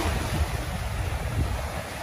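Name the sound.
strong waves crashing on the Manila Bay dolomite beach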